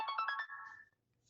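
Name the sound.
phone alarm going off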